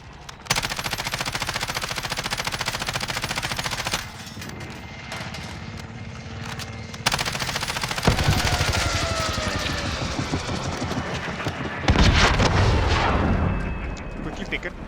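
Heavy automatic and single gunfire fill a multiplayer shooter video game, with long sustained bursts, brief lulls and renewed loud volleys, while players talk over the action.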